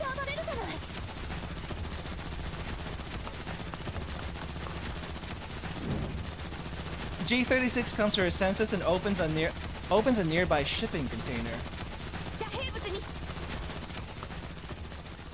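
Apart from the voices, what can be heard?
gunfire in video game Girls' Frontline 2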